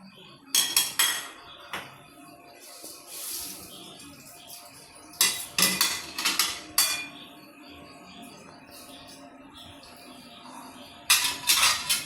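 Chopped onions and other ingredients for jackfruit vada are stirred in a bowl, giving bursts of sharp clinks and scrapes in short clusters, separated by quieter pauses, with no talk.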